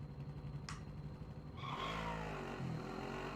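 A vehicle engine in Call of Duty: Warzone revs and accelerates up close, loud and continuous, with a short high whistle near the start and a rising, steady mechanical drone after.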